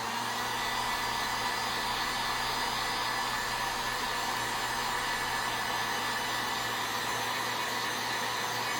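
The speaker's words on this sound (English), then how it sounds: "we are going to have to hit this with the heat gun here" Heat gun blowing steadily on vinyl wrap being applied to an AMR Racing Can-Am Ryker, a continuous, loud broadband whoosh with a constant motor tone that runs unbroken and alone throughout.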